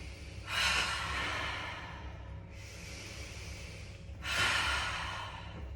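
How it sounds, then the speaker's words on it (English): Two deep breaths drawn in through the nose and let out through the mouth during a group breathing exercise, each a long, close, airy rush with a quiet gap between. "So just breathing in through the nose, out through the mouth."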